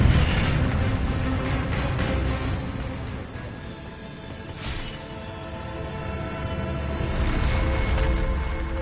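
In a Harry Potter video game, an Incendio fire spell bursts with a deep booming whoosh and roar, loud and sustained with rumbling layers, swelling again toward the end.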